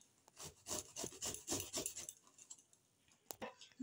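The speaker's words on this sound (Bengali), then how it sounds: "এই যে আমার পেঁপে গ্রেট করা হয়ে যাচ্ছে, আর একটুকুনি বাকি আছে।" Papaya is grated in a quick series of close, rhythmic rasping strokes that thin out toward the end, followed by a sharp knock.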